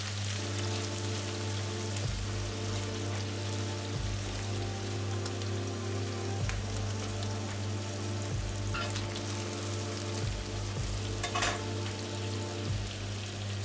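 Beef steak pieces sear in a hot pan with garlic and are stirred, making a dense, continuous crackling sizzle like steady rain, with occasional stirring knocks and no one speaking.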